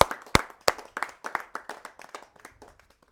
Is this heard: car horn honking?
no